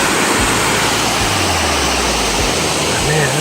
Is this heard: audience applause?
no